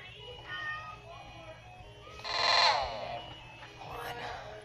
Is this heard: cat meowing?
yes